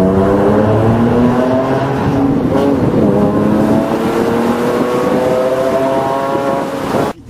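A Porsche 997 Phase 1 fitted with valved exhaust silencers drones steadily inside a reverberant tunnel, a loud, close, even engine note that holds for several seconds before cutting off abruptly at the end.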